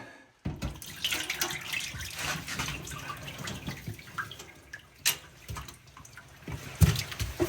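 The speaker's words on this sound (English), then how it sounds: "I'm just gonna dump it in the sink. We'll rinse it." Brine from salted meat is poured into a kitchen sink and rinsed away under the tap, a continuous splashing water stream with gurgling surges and drips throughout, close and fairly loud.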